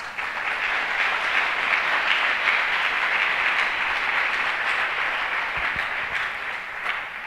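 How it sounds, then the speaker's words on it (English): A room full of summit attendees applauds steadily for several seconds, a dense, even wash of clapping with no talk over it. "I ask each and every one of you in the room to also give them a round of applause"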